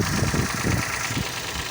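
A Toyota Passo / Daihatsu Boon 1KR-FE engine idles close by with a rapid, regular knocking tapping through its steady hum.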